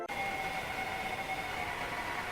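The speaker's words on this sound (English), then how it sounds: "The original audio for Ambush is still on Roblox, labeled as Glitch, Scream, Loop" The original Ambush glitch scream loop from the Roblox game Doors is a dense, harsh, steady roar with sustained shrill tones over it, looping without pause after a brief glitchy start.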